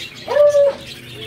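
A crested hen calls at a bird show in Malabon, Philippines, giving a single clear, loud cooing note that rises and holds steady for about half a second before falling away against quiet background noise.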